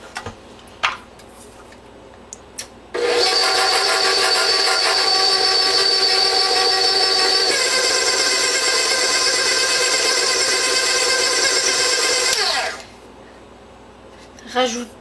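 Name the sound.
mixer blending dough with orange blossom water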